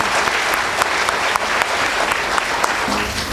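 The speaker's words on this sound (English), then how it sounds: "a big applause for all the children and the teachers" Audience applause at a kindergarten fiesta, a dense, steady wash of clapping that holds close and loud for the whole stretch without letting up.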